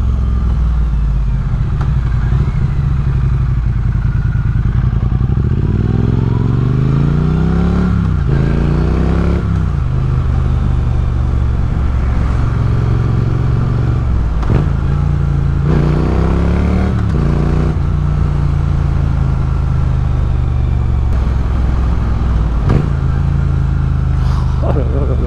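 A Triumph Speed Twin 900 motorcycle engine drones steadily through a road test ride, with low-rev rumble and several rising revs as the bike accelerates, heard up close beneath wind noise.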